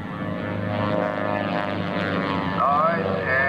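A propeller airplane flying an eight-point hesitation roll at an air show, its engine droning steadily with shifting pitch as it passes, while a commentator talks over it.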